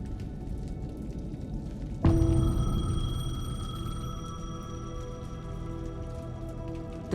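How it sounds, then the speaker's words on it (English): A payphone rings in the video game Alan Wake 2, a sudden bright electronic tone that starts abruptly after quiet patter and rain-like ambience, then sustains and slowly fades. "The payphone was ringing."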